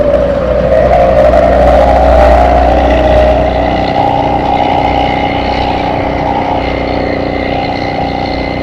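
Motorcycle engine drones loudly and steadily while riding on a road, with a rising whine as the rider overtakes a car, then settling into a sustained hum and wind rush.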